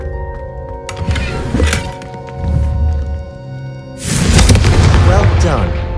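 A Confringo fire spell from Hogwarts Legacy bursts in a loud, broad explosive boom that swells and lingers, following an earlier rumble, with background music and voices underneath.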